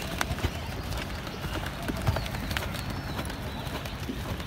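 A horse cantering under a rider produces steady hoof beats over a dense, noisy outdoor background, with irregular soft thuds and no clear speech.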